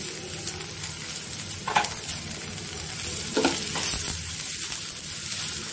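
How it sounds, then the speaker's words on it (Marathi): Grated coconut and onion roast in a little oil for a Malvani masala, making a steady close sizzle broken by a few scraping stirs of a spatula against the pan. "ते पण मी चांगलं लाल होईपर्यंत कमी तेलामध्येच भाजून घेते"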